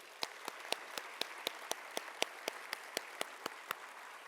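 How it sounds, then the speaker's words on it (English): Steady applause from the audience at a community assembly panel event, evenly spaced distinct claps continuing for several seconds, fairly faint and alone with no talk. "please give another round of applause to all of our speakers"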